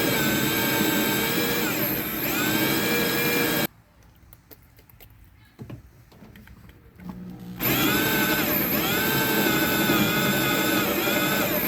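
A power drill fitted with a hole saw bit on a farm whines loudly and steadily, cuts out briefly to quieter rattling and handling noise, then starts up again at full, constant volume.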